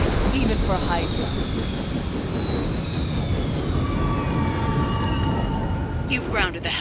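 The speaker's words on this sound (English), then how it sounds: "You've grounded the helicopter." A video game helicopter, its engine roaring in a broad, steady wash, with high whining tones sweeping across and a siren-like wail rising near the end.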